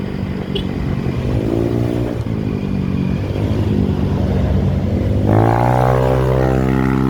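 A motorcycle accelerates along a road past rice fields in the Minang highlands of West Sumatra, its engine note rising and shifting through gears, loud and close, with steady wind rush throughout.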